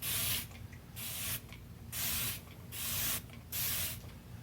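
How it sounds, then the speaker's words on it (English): A spray bottle mists water over a canvas in four sharp, evenly spaced hissing bursts, each about half a second long, close by with quiet pauses between them. "we're going to start by spraying a light misting of water over this canvas"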